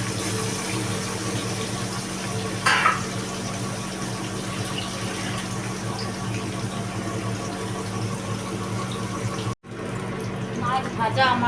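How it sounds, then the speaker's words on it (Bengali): Katla fish pieces frying one by one in hot oil in a wok, a steady close hiss and sizzle that runs throughout with a brief break near the end. "তার জন্য আমি কড়াইয়ে তেল গরম হয়ে গেছে। এবার আমি মাছগুলোকে একে একে ভেজে নেব।"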